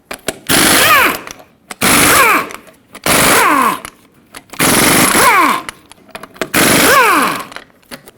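Five loud bursts of an impact wrench spinning off 21mm lug nuts from a Ford F-350 front wheel, each whirring buzz about a second long with short pauses between, close and alone.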